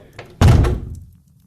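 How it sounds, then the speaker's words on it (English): A door swings shut with one solid, heavy thunk, close and loud, then a short fading echo in a quiet room. "Shut the door gently."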